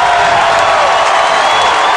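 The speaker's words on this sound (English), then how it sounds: "and this crowd loves it" Home crowd at a 1992 college football game, Kentucky hosting Mississippi State, roaring steadily after a defensive tackle forces a punt; a broad, continuous stadium din throughout, loud and even with no individual voices standing out.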